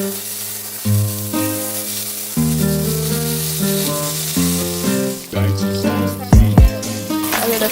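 Bacon strips cut in half sizzle and crackle loudly in a hot pan, a steady close frying hiss with occasional sharper pops, no talking.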